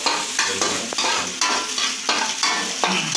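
Garlic and onion sautéing in hot oil for pork belly adobo, a loud continuous sizzle broken by a rhythmic scrape of a spatula being stirred about once every half second.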